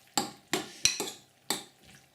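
A spoon scrapes and clinks against a bowl while an egg is stirred into hot noodles, five quick distinct strokes at close range with no voices.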